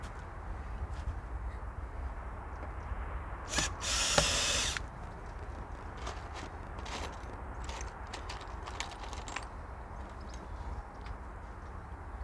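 A cordless drill drives screws into wooden decking outdoors, a short whirring burst followed by a few quieter clicks and taps, close but modest against a steady background rush.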